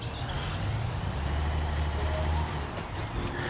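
A cement truck engine rumbles low and steady in the Construction Simulator game, with a hiss like air brakes at the start and a faint tonal beeping layered over the heavy drone.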